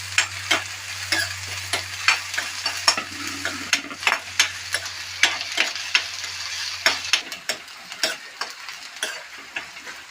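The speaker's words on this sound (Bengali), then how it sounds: "পেঁয়াজের ব্রাউন কালার হয়ে গেছে পেঁয়াজটা ভাজা হয়ে গেছে" Onions frying in oil for a potato mash, sizzling steadily while a utensil scrapes and taps the pan in a regular rhythm of close, distinct strokes.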